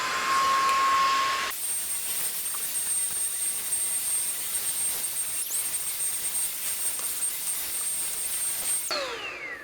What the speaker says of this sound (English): the vacuum cleaner is performing very well